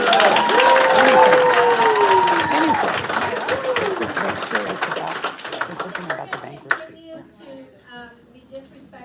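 Audience applause fills a hospital board meeting room, loud and dense at first with overlapping voices and tonal speech-like sounds, then thinning into scattered claps and murmurs before dying away.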